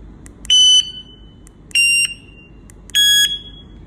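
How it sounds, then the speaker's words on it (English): A smoke alarm set to its beep-signal mode sounds three loud, piercing electronic beeps, each about half a second long and evenly spaced over a faint background hiss. "press this speaker button"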